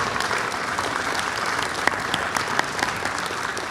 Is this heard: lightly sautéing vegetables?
no